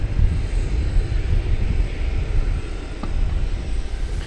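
A Boeing 747 at DFW Airport at night, heard as a continuous broad engine roar that holds steady and fairly loud throughout, with no voices.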